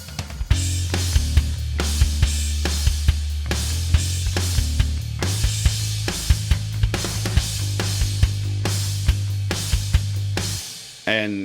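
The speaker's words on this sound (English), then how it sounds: "And so with the drums, it sounds like..." Drum track from a song, with steady kick and snare hits and cymbal wash driving along over a low sustained bass tone, loud and even before cutting off at the end.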